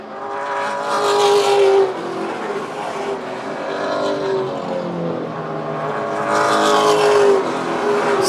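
Race cars roar past on a track during the Coastal 200, engines whining and rising in two loud swells as the pack passes, with steady engine drone in between.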